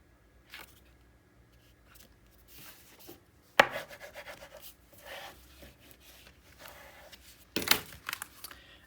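A paper trimmer slices 3/8 inch strips of paper, giving sharp quick cutting strokes with a crisp snap at the start of each pass, separated by soft rubbing and handling noises, close and fairly quiet.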